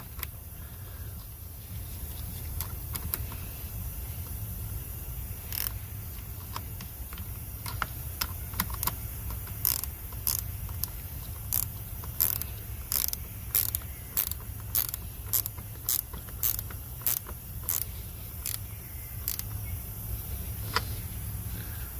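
A ratchet tightens a car part with steady rapid clicks that quicken into a dense run of sharp ticks, over a low constant background hum.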